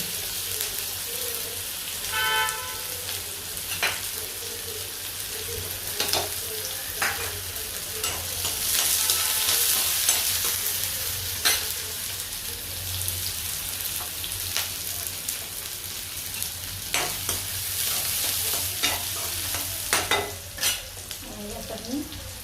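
Turmeric, chilli and curry leaves sizzle steadily in hot oil for kadhi, with spatula stirring and scraping strokes spread through the crackling, close and fairly loud, no voices.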